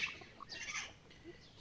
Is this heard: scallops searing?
no